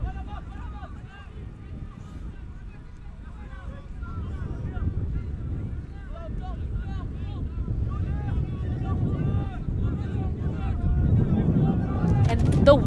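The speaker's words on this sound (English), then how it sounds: "the wind is gusting, pushing stuff off our table up here in the booth" Wind gusts buffet a commentary-booth microphone high above a junior ultimate frisbee bronze match, a steady low rumble running under continuous commentary throughout.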